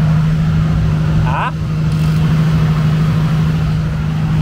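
Drift cars at Japfest 2023 give off a steady, loud engine drone that holds throughout, with voices briefly audible over it.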